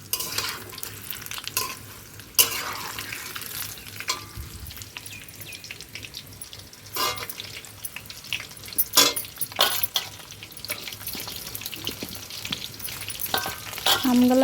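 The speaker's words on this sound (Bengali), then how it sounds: "আমগুলো একটু লাল করে ভাজবো" Hard mango pieces for pickle frying in hot oil in a pan, steady sizzling with occasional stirring scrapes and spoon clinks throughout, close and fairly loud.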